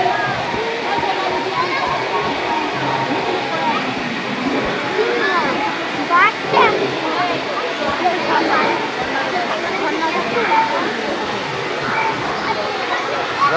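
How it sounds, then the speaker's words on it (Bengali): An artificial waterfall in a garden park, water pouring steadily from above in a constant rushing splash, heard close and loud throughout while a person talks over it. "এখানে এরকম একটা ঝর্ণা করা আছে উপর থেকে জল পড়ছে"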